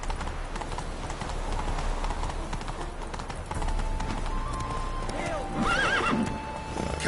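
Horse hooves clopping and a horse whinnying in the video game The Witcher 3: Wild Hunt, set against a busy ambient game background. The whinny rises near the end, and a voice speaks briefly.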